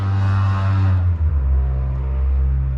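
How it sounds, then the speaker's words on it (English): A small car driving past outside, a close engine rumble and whine that drops in pitch as it goes by and then settles into a low steady drone. "Did y'all hear that little car drive by?"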